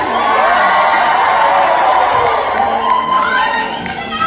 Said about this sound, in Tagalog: Palakpakan natin si Vendetta, napakagaling!